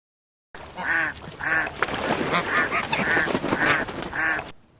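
A duck quacks six times in a steady, evenly spaced rhythm, each call loud and nasal and close by, with light rustling noise underneath and no voices.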